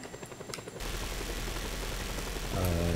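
Helicopter in the open-world action game Just Cause 2, a steady loud engine and rotor drone that kicks in abruptly and holds throughout, swelling slightly at the end.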